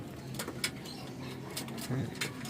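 A racing pigeon cooing softly nearby in a loft, low repeated coos against a quiet background.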